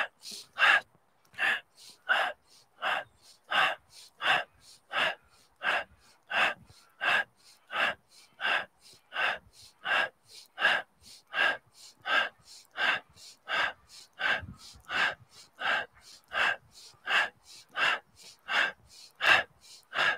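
A person doing a qigong stomach massage pushes on the belly while exhaling, giving steady, evenly spaced breathy exhales, around thirty in a row, close and clear with no talking.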